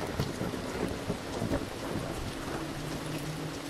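Thunderstorm in the co-op horror video game Devour: steady heavy rain hiss with low rolling thunder rumbles throughout, fairly loud and continuous with no talking.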